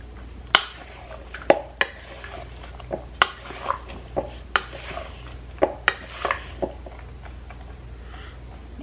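Utensils scrape and clink against a bowl as burger ingredients are mixed at a campfire cooking setup, with a steady string of sharp, close taps and knocks at an uneven rhythm over quiet outdoor background.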